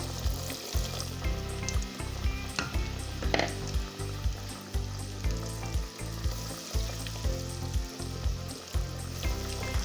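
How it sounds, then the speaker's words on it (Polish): Mozzarella fries in hot oil with a constant close sizzle and crackle, plus rhythmic bubbling pulses throughout. "teraz smażymy mozzarellę, a potem cukinię i mięso"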